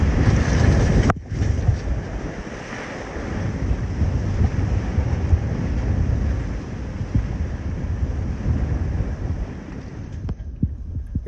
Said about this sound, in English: It broke free from its anchor, and now it's beating up against the rocks.